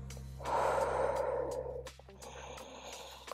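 A deep breath during a workout cool-down, with a long, audible inhale or exhale through the nose and mouth, close and soft, followed by quieter breathing.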